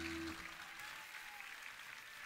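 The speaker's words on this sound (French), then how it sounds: "vous allez les applaudir, pas nous, eux" Concert audience at a live radio anniversary show applauding the station's team, a soft, steady wash of clapping heard from a distance.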